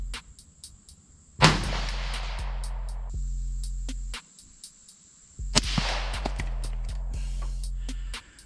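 Two sharp 17 HMR rifle shots a few seconds apart, fired at a target 200 yards away, each a loud close crack followed by a decaying echo, with faint ticking between.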